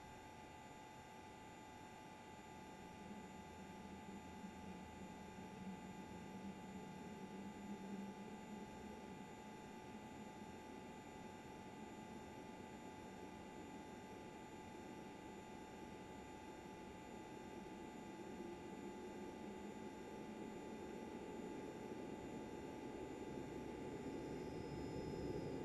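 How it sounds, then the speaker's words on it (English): Auxiliary power unit of a regional jet in Microsoft Flight Simulator spooling up: a low, steady mechanical hum with a constant tonal whine, quiet and gradually building in intensity over about twenty-five seconds. "start the APU by moving the master switch to the start position"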